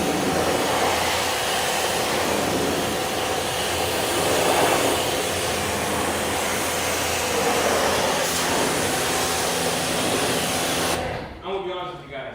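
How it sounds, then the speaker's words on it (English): Gas pressure washer blasting dirt off, a loud, steady broadband hiss and roar running continuously for several seconds, then cutting out near the end. "This pressure washer is perfect."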